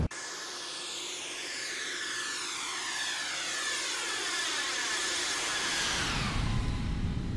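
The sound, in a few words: X-Craft E-190 jet engines during flyby, flight simulator video game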